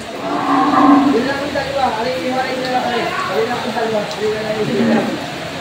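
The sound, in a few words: water buffalo at Lucena livestock auction market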